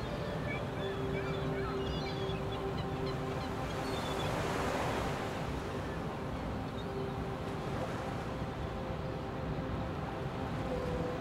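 Steady, continuous wash of ocean surf breaking on a beach, a broad even roar with gentle swells and no distinct pauses, carrying on throughout.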